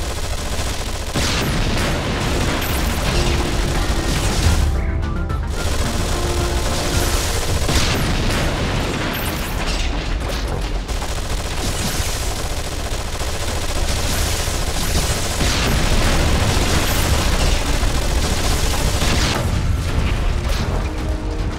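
Squad weapons in the Anomaly 2 video game rattle nonstop in dense, loud bursts of gunfire, layered with booming explosions and mechanical clanking, continuous throughout.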